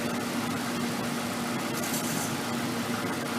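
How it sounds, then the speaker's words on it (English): A Ford Ranger pickup truck engine idles warmed up in park, giving a steady low hum with a constant mid tone and faint mechanical ticking, close and unchanging with no talk over it. "the engine is still running"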